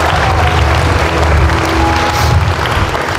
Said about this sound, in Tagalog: Yung pumalakpak, sila lang siguro yung nakaunawa.